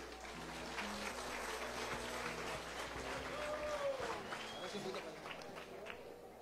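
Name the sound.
audience applause welcoming Tropa Teatro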